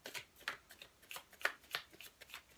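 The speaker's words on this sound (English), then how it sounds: "Chuck Spezzano love cards for Scorpio." A deck of Chuck Spezzano love cards is shuffled by hand, giving a quick, close run of soft riffling flicks in a steady rhythm over a couple of seconds in a quiet room.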